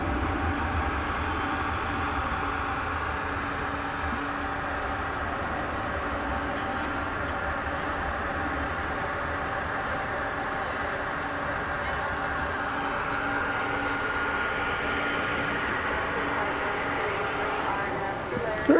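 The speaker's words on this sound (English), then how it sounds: "So we salute this 20th century aeroplane." A 1992-built airliner, about 31 years old, at DFW Airport at night, giving off a continuous broad engine roar that holds steady and fairly loud for the whole stretch.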